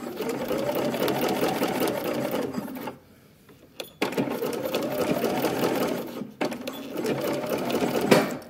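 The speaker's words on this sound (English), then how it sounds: "now I'm going to just stitch it at the half inch mark" A sewing machine stitches a swim trunks pocket at a half-inch seam, running in two long steady whirring bursts separated by a short pause, close and loud with no talking.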